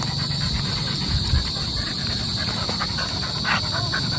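Dogs panting and snuffling close by, a steady breathy hiss running throughout with small scuffling bumps, no clear barking.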